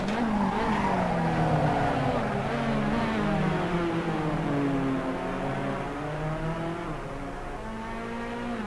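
A sim racing race car at Silverstone in a simulated BMW 3 Series race locks a wheel, its tires squealing with sweeping whines over a steady engine drone that gradually fades.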